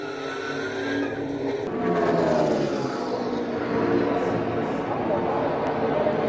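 NASCAR race cars at Daytona, one crashing and sliding across the track with squealing, skidding tires under roaring engines, while a commentator talks over the broadcast mix.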